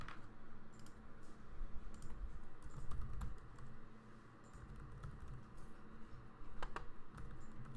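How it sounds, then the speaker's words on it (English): Keys clatter on a computer keyboard as a name is typed into a business software form, a quiet close run of quick irregular clicks in short bursts with brief pauses, alone without talk. "So if I typed into there"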